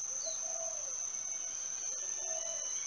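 A nighttime chorus of crickets after rain keeps a steady, shrill, unbroken drone, with a couple of brief soft bird-like calls rising over it.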